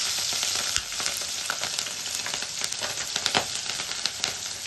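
Chopped green chillies fry in hot oil in a pan while cooking gongura curry, giving a steady, dense sizzle with scattered crackles and pops throughout.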